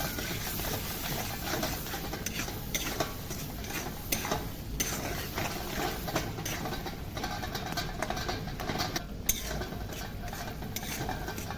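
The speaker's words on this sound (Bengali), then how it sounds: "মশলাটা দেওয়ার পরে আমি ভালো করে মিক্স করে দেবো" Spices with turmeric are stirred in a cooking pan, giving continuous close scraping and clinking of a utensil against metal over a faint sizzle, with no voices.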